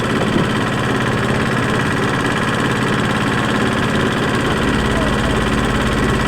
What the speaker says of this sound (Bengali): ট্রলারের অতিরিক্ত শব্দের কারণে আমার কথাগুলো পুরো ক্লিয়ার আসতেছে না